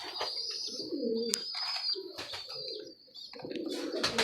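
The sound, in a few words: pigeons cooing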